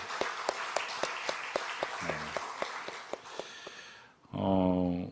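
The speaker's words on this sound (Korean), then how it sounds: "다음 세대 자녀들 위해서 우리 박수 한번 쳤으면 좋겠습니다" A church congregation claps for the children of the next generation, a soft steady run of separate hand claps that thins out before a brief louder sustained sound at the end.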